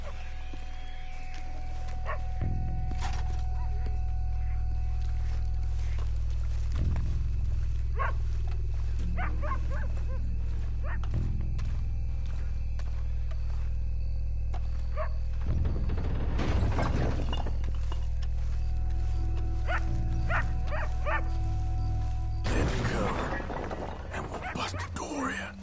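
Dogs barking and whimpering in the game Red Dead Redemption 2, scattered yips and barks against a low steady hum, with a voice talking over them and bursts of louder activity partway through and near the end.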